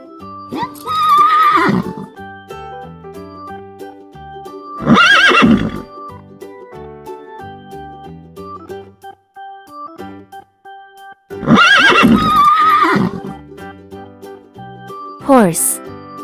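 Several loud horse whinnies in a farm-animal sound quiz, three or four separate neighs spaced a few seconds apart over steady background music.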